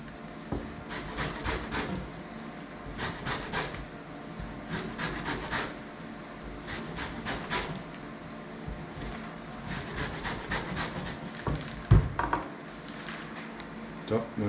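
Fresh lemon rind is zested on a grater while preparing Bavarian weisswurst, a close series of short rhythmic rasping strokes in clusters with brief pauses, and a person speaks between the strokes.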